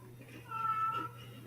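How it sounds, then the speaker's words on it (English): A house cat meows once, a drawn-out, moderately faint call rising over steady background hum and room noise. "That was the cat again."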